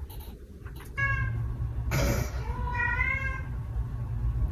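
A pet cat meows twice, close by, with clear rising and falling cries separated by a short burst of broadband noise, over a steady low indoor hum.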